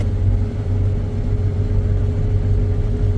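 A car and a camper on a road give a steady, fairly loud low rumble of engines and tyres passing close by, with no voices over the drone.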